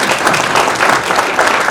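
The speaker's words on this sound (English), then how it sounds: "can we just give a round of applause to our moderator?" A short stretch of audience applause for a moderator at a business talk, many hands clapping steadily at a moderate, even level.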